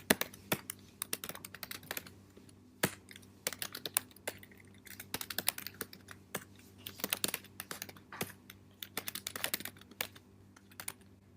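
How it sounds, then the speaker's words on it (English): Rapid, irregular keystrokes on a computer keyboard, with close, crisp clicks arriving in uneven bursts and short pauses and no voices over them. "just type in all this"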